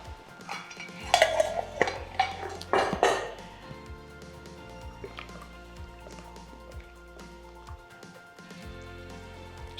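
Chopped carrot, celery and parsley tumbling into a soup pot on the boil, with a few clinking knocks against the pot and utensil clatter early on, followed by a steady low bubbling simmer.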